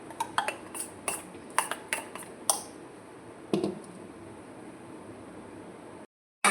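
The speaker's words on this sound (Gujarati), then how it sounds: "આપણે તેલ ગરમ કરી મૂકી દેવાનું છે। એને આપણે હલાવતા રહીએ।" A metal spoon scrapes and clinks against a pan of oil heating for fritters, several sharp taps in the first few seconds and then a quieter steady hiss.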